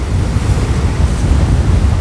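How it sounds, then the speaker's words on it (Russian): Sea waves wash steadily onto a crowded Azov Sea beach while wind buffets the microphone, a continuous rough roar of surf with no talking. "Ветерок, волны."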